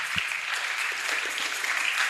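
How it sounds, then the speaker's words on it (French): A church congregation applauds steadily for about two seconds, a dense, even wash of clapping that stays at a moderate level throughout. "On acclame, on acclame."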